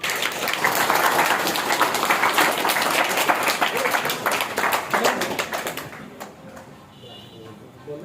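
Audience at a school function bursts into dense, loud applause that holds for several seconds, then thins out and fades, with faint voices left at the end.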